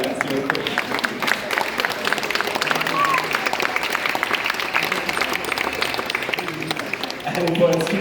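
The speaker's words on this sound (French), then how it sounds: "On va pouvoir applaudir nos marionnettistes à votre travail." An audience applauds puppeteers at Les Machines de l'Île in France, a crackling spread of many hands clapping at moderate volume that continues for several seconds with a slight swell near the end.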